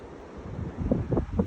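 Blustery wind rumbles against the microphone beside a 1958 Chevrolet Bel Air, building in strength with uneven gusts over a short moment.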